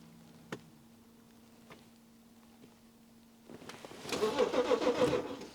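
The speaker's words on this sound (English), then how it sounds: "So as you can see there, it does crank." A BMW X5 engine cranking without catching: a few faint ticks and clicks, then a starter motor whirring with a rough, rhythmic churning that grows louder near the end, close by and with no talk.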